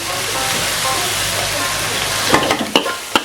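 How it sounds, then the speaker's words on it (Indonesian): Sliced sausages stir-fry in margarine with a little onion, giving a steady close sizzle with sharp scraping clicks of a spatula toward the end. "Diorak-arik sosisnya yang kita udah potong-potong. Kita masukin sedikit bawang bombay."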